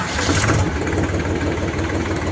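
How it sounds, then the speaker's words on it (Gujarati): A Powertrac 52 HP 4x4 tractor engine starting, a brief loud cranking catch that settles into a steady low diesel idle rumble, close and alone without talk. "એકદમ આરામથી ચોઈક કરીને ટ્રેક્ટર સ્ટાર્ટ થઈ ગયું"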